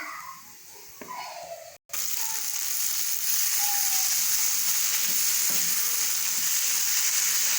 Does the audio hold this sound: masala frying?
yes